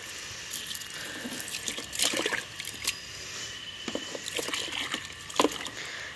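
A gentle stream of water rinses algae off a water lily pot in a terrace garden, splashing steadily and close, with a few louder spatters as the flow shifts; nobody speaks.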